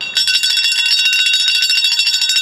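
A metal bell, one of several cowbells, rings loudly and continuously in rapid, shimmering strikes with bright sustained overtones, close by and with no voices over it.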